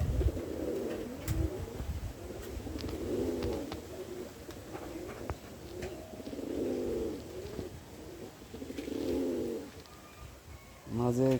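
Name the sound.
Lahori pigeons cooing while bathing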